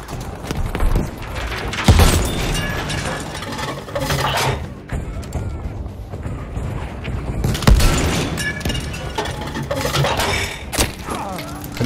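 Battlefield V gameplay on the Provence map with a PaK 40 anti-tank gun firing: sharp booming shots stand out near 2 and 7.7 seconds over a dense, noisy backdrop of battle clatter and thuds.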